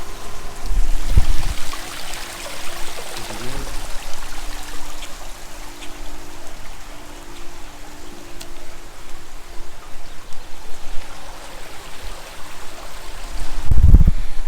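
Water flows through a freshly cleaned Hayward C5030 cartridge pool filter, a steady close trickling and gurgling stream with a few louder splashes near the start and end.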